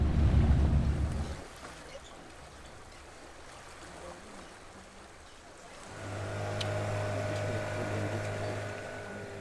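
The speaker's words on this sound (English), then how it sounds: "A short boat ride can take visitors to the exact spot." A boat ride on the Nile at its source beside Lake Victoria in Uganda: engine hum, water and wind noise, loud rumbling gusts at first, then a steadier motor drone with a tonal whine.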